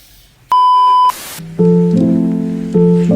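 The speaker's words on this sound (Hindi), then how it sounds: "ऊपर से ये स्टूपिड टॉक्सिक अलार्म ट्यून।" A phone alarm tone sounds at 4 a.m.: a sustained beep, a burst of static, then a loud repeating synthetic melody of steady tones, close and piercing.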